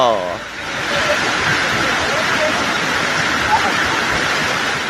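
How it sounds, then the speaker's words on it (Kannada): Floodwater from heavy monsoon rain surges down the hillside at Raigad Fort in a dense, continuous roar, loud and steady throughout. "ಬೆಟ್ಟದಿಂದ ಅದು ಹೇಗೆ ನೀರು ನುಗ್ಗಿ ಬರ್ತಿದೆ ನೋಡಿ"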